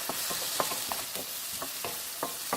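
Yam pieces stir-fried over medium heat for a braised side dish, a steady bright sizzle under repeated rhythmic spatula scrapes at close range, with no voice.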